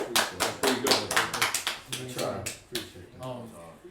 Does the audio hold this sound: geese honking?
no